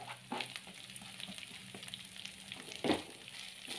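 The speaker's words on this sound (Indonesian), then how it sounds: "Kita tumis daun kemanginya sebentar aja ya." Sliced lemon basil leaves sautéed in a pan, a soft, fairly quiet sizzle with occasional light stirring taps and one louder scrape near the end, without any talking.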